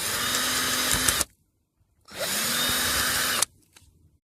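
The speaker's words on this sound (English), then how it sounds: "Gonna drill the cap here from the back side" A power drill bores through a beer bottle's metal cap from the back side in two loud, close whirring bursts of about a second each, separated by a short pause.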